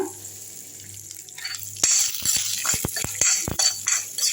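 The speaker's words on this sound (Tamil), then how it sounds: "இந்த கடாய் சீட்லேயே வந்து இந்த பச்சை மிளகாவும் இஞ்சும் வதங்கட்டும்" Green chilies and ginger fry in a kadai on its leftover heat with the gas turned off, a soft sizzle that turns into a series of close, sharp stirring clatters and scrapes.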